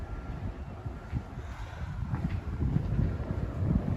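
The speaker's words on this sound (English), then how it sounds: "It's getting windy. There is a storm heading this way." Wind gusting outdoors at an apartment building as a storm approaches, a low rumbling buffet against the microphone that swells and grows stronger toward the end.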